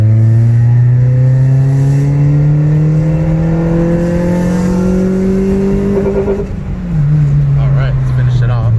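A tuned car's engine revs loud and close during a third-gear data log pull, its pitch climbing steadily for several seconds before a brief dip at the shift, then droning on.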